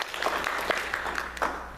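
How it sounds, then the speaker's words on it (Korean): A church congregation applauding during a Sunday service; a fairly quiet, loose round of clapping with a few sharper hand claps standing out, moderately distant in the hall. "박수로"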